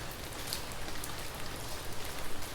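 Steady rain falls in a dense, even hiss with faint patters of drops on surfaces, close and continuous, with no voices.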